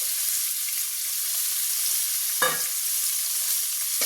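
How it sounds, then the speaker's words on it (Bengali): A fish sizzles in hot oil for a village-style masala fish fry, giving a constant bright crackle. Two brief clanks of a utensil against the pan interrupt it. "এই মাছটা আমি একটু, তেলটা গরম হয়ে গেছে, ভাজা ভাজা করে নেব"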